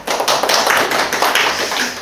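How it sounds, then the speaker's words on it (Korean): Short burst of audience clapping greeting a teacher at a high school information session, close and fairly loud, with individual claps audible in a brief uneven patter. "박수로 맞이해 주시기 바랍니다."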